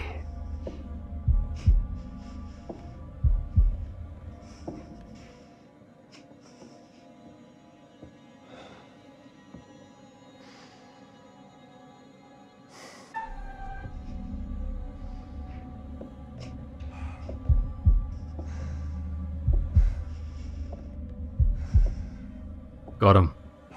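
Thumping heartbeat from the video game The Devil in Me, a low, rhythmic throb in steady pulses, loud in the foreground, with soft breaths and game ambience around it and a short quiet stretch midway.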